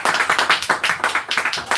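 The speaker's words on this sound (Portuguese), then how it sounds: "Palmas para Jesus." A church congregation claps in a quick, even rhythm, each hit sharp and distinct, keeping a steady tempo at close range for a short burst.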